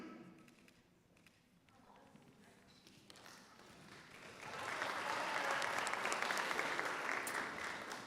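Audience applause at a graduate school awards ceremony, starting faint and building into steady, dense clapping that fills the room in the latter half.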